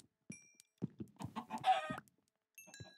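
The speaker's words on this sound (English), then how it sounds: "Ooh, there's chickens right here." Chickens in the video game Minecraft cluck in short, quiet, close bursts, with a few brief pauses between the calls.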